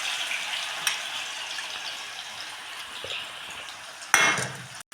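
Snacks frying in hot oil in a kadhai, a soft steady sizzle with a few clinks of a utensil against the pan and a louder scrape near the end, no one talking.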